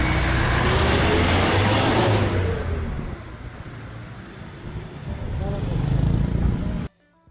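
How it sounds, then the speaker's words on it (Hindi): Morning road traffic rumbles loudly and close, with heavy vehicles droning past and engines swelling and easing before the sound cuts off abruptly. "इतनी ट्रैफिक होती है ना,"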